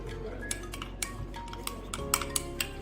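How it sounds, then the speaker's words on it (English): A spoon stirs dissolved coffee in a dish for a coffee cake, producing close, repeated light clinks and ticks against the sides in a loose, steady rhythm. "Now mix the coffee."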